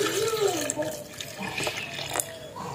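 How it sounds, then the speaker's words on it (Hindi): Half a litre of milk pours steadily into a blender grinder jar for a milkshake, a continuous close splashing, gurgling flow. "इसमें अब हम डालेंगे दूध जो हमने आधा लीटर लिया है"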